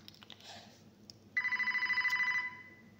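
A telephone rings with a steady electronic trill lasting about a second, fairly close and clear above quiet room background, after a few soft indistinct sounds.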